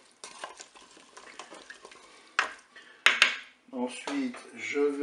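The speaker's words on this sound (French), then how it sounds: "Je mélange." Rice, broccoli and corn stirred in a Cookeo pot: a spoon scrapes and clinks against the pot in quick irregular strokes, with a few sharper metallic knocks and some soft sizzling.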